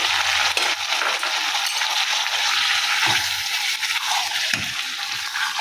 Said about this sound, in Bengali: এখন ভালো করে নাড়াচাড়া করব মশলার মধ্যে